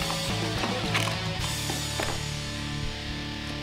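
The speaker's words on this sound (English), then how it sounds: "and screwed them in" Screws driven into a wooden framework of 2.5-inch pieces for a tiny-house under-sink cabinet, a steady mechanical whir with ratcheting clicks continuing throughout, moderately quiet with no talk.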